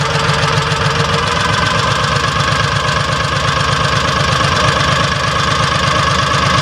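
A Kawasaki Mule 3010 engine idles steadily after carburetor installation, a loud, even, rapid low thumping with a mechanical rattle and no talking.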